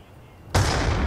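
Grenade blast in Black Ops II: a sudden loud, broadband boom cuts in after a quiet moment and rolls on into a rumbling, noisy tail.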